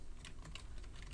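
Rapid typing on a computer keyboard, steady clattering keystrokes close by with no voices.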